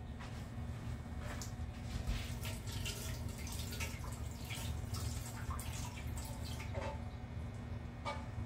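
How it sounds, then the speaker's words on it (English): Tap water runs steadily into a kitchen sink while hands are washed under it, a continuous close hiss with small splashes throughout. "I'm gonna wash my hands."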